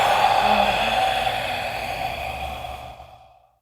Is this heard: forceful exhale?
yes